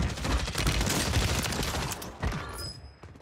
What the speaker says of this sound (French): j'ai pris une bastos de snipe au loin